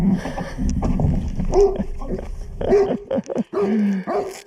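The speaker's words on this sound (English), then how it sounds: "Whoa, that's a big black dog." A big black dog near the closed Russian border crossing in Estonia gives several loud, close barks and yelps in uneven bursts, with pauses between them.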